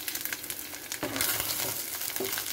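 Squid sizzles steadily in hot oil in a pan, with a dense close crackle and a louder burst of frying about a second in. It stays alone without any talk.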